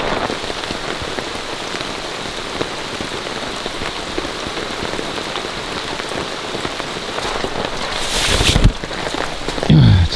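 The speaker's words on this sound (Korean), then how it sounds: "이게 지금 비가 제법 많이 내려요" Heavy rain drums steadily on a new Kazmi X9 tent pitched at a campsite beneath dense trees, a loud continuous patter up close that swells into a heavier gust of drops near the end.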